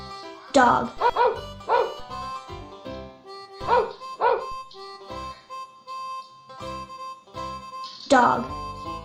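A dog barks and yips in a farm-animal setting, several sharp, loud barks coming in bursts with shorter whimpering yelps between them.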